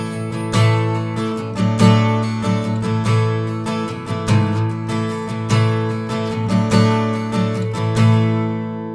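Acoustic guitar strumming the chords of Good Good Father with an added bass note, bright and full, played alone at close range in a steady rhythm.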